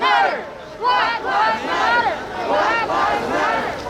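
A protest crowd marching toward Nubian Square in Boston chants loudly in rhythmic unison, voices rising and falling in repeated shouted phrases close by.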